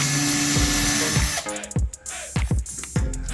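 A power drill removing screws from ceiling panels spins up in short repeated bursts, its whine rising and stopping several times, close and loud.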